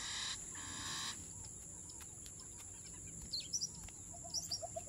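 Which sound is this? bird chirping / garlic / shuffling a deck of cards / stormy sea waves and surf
bird chirping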